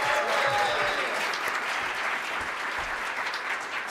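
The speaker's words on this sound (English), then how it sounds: "please give a hand clap for these incredible people who I'm about to tell you about" An audience claps for a panel of guests at a conference, a full burst of steady applause throughout, close and sustained, with a few voices faintly mixed in.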